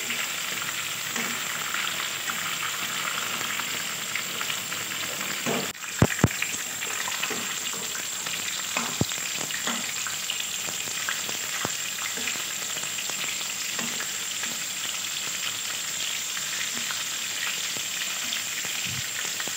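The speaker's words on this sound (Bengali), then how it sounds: "খুবই সুন্দরভাবে লাল লাল করে আমার পটলগুলো ভাজা হয়ে গেছে।" Pieces of pointed gourd (potol) fry in hot oil with a constant close sizzling hiss, broken by occasional sharp clinks and scrapes of a utensil stirring the pan.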